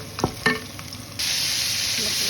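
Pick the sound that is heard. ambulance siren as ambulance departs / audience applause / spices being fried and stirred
spices being fried and stirred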